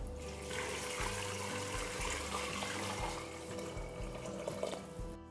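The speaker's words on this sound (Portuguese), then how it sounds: "e vou colocar água." Water pours steadily into a pressure cooker holding washed white beans and bacon, a continuous close splashing fill with a few low clunks, no talking.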